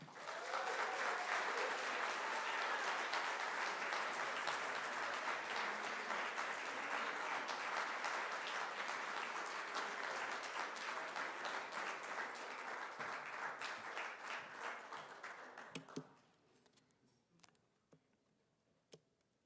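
An audience at an evening college lecture event applauds warmly and continuously, a dense wash of clapping that holds for about fifteen seconds before quickly fading to a few scattered claps and near silence.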